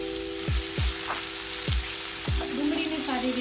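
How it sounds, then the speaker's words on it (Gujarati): Crushed onion frying in oil with cumin, bay leaf, dried red chilli and asafoetida makes a loud, continuous sizzle, with several quick spatula strokes across the pan at irregular intervals. "ડુંગળીને સારી રીતે સોતે કરી લઈશું।"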